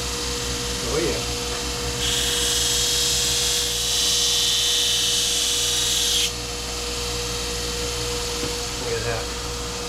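A 2-inch belt grinder runs over a constant electrical hum while a splitting axe is sharpened, a bright abrasive rasp lasting several seconds in the middle, with brief voices at the start and end.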